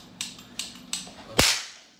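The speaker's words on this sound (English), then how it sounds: "Oh yes, I killed him with my gun." Gunfire in a video game: three sharp, evenly spaced light cracks followed by one louder, fuller shot with a short decaying tail, no talking.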